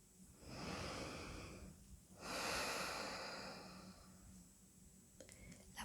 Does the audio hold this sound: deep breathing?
yes